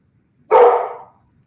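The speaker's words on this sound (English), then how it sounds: "My darn boy dog" A male dog gives a single loud, close bark that tails off quickly, alone against a quiet background.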